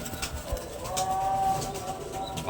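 Giribaz pigeons at a pigeon farm give soft, low rolling coos, close and steady against light background noise.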